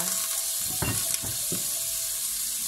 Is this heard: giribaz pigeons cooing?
no